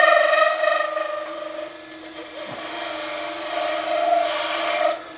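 A resin blank spins on a wood lathe while a skew chisel cuts it, giving a steady, loud raspy scraping with a sustained tonal hum of harmonic vibration that eases near the end.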